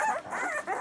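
A Labrador puppy from a litter of eight gives close, high whimpering yelps in a short series of three, with no talk over it.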